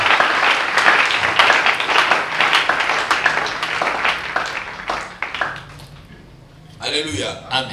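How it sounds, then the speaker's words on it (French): A church congregation applauds during a French-language sermon: dense, sustained clapping that thins out and fades, then a voice speaks briefly near the end. "on acclame quand même le Seigneur."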